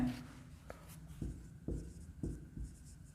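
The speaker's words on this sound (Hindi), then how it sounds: "लिखते हैं" Pen writing on paper while working an accounting problem on partnership goodwill, heard as a series of soft, close scratchy strokes in short bursts with quiet gaps.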